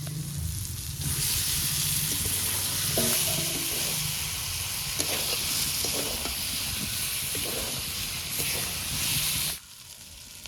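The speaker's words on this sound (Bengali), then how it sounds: "মশলাটা ভালো করে কষে নিয়েছি এবার ভেতরে রাখা আলুগুলো দিয়ে দেবো" Potatoes frying in a spice masala for Bengali aloo dum give a loud, steady sizzle that runs for about nine seconds, then cuts off abruptly near the end.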